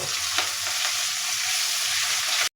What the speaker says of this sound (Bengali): ধনিয়ার গুঁড়া দিলাম এক চামচ এখানে আমি স্বাদ মতো লবণ দিলাম তো এই সব কিছু এখন আমি একটু কষিয়ে নেব